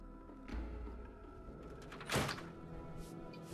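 Door opening in the Fallout 3 video game, a low thunk followed by a soft mechanical slide and a brief burst of noise midway, fairly faint over a dull background hum.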